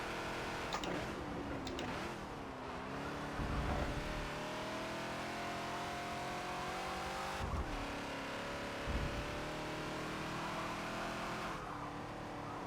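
Race car engines roar and rev continuously in the Forza video game, a Ford Falcon XB at Watkins Glen, with bursts of tire squeal and passing whooshes, loud and close, no voices.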